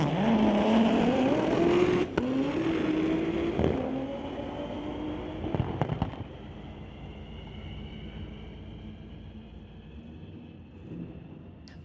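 A 1996 VW Golf at a drag race, its engine revving hard with rising pitch through the gears, loud and near at first, then fading away into the distance.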